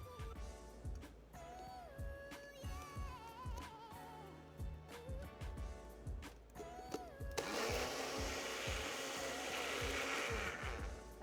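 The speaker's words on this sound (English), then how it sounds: "we are ready to rumble this up in my blender to give you a smoothie-like" A countertop blender whirs as a coffee-based signature beverage is blended to a smoothie texture, a loud steady roar kicking in after a stretch of clinking, handling noises and a voice.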